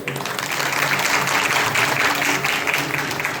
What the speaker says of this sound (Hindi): ये इन्होंने जो तालियां बजाई ना, इन्होंने महाराज जी के लिए नहीं बजाई